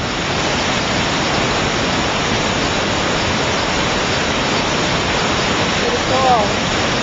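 Buttermilk Falls near Long Lake pours with a loud, steady broadband roar that fills the whole stretch without a break, heard up close.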